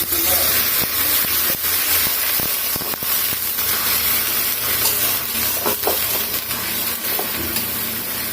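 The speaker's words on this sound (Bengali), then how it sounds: "এই যে আমি সুন্দর করে এখন পানি দিয়ে দিচ্ছি" Water poured into a hot frying pan of garlic and chilli sets off a loud steady sizzle and hiss, with occasional clinks of a utensil stirring.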